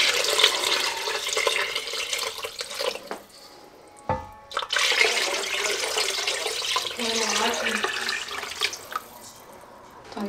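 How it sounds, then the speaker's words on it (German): Chicken broth poured from above into a pot of vegetables and vegetable paste, a steady, close splashing stream that breaks briefly near the middle and then runs on in a continuous pour. "Und dann gieße ich das mit Hühnerbrühe auf."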